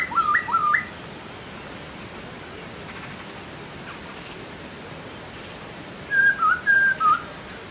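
A recorded bird call plays twice, each a bright whistled phrase of quick rising and falling notes. The two phrases are separated by a long quiet gap over steady background hiss.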